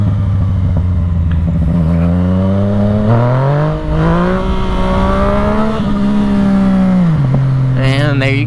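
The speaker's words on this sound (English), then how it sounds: "After this corner, I can kind of show you a little power wheelie." Motorcycle accelerating hard for a power wheelie on wet roads in the rain, the engine revving up through rising pitch, easing, then climbing again, loud and close with wind noise.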